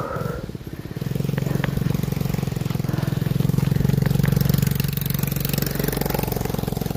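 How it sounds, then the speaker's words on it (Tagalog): Motorcycle engine running close behind a bicycle rider on a road, a loud, steady pulsing putter with a rapid rhythmic beat that swells slightly mid-way and holds for several seconds. "may motor sa likod ko"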